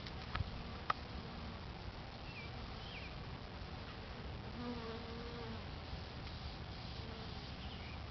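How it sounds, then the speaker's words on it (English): Bees buzzing busily on lavender in a garden, a continuous dense hum of many insects with individual wingbeats rising and falling, steady and fairly close, with faint outdoor background. "You can see the bees on here, very busy. There are thousands of them."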